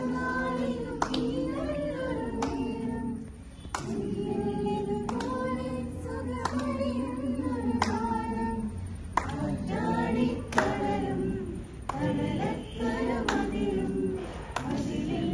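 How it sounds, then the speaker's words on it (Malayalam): A group claps hands together at a morning class gathering in Pulpatta, with sharp, scattered claps rising over a steady bed of voices and tonal sound. "കൈയടിക്കാം"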